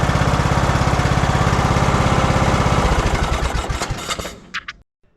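A lawn mower engine with a newly replaced carburetor runs loud and close in a fast, steady chugging rhythm, then sputters and cuts out near the end, leaving a few faint knocks before silence.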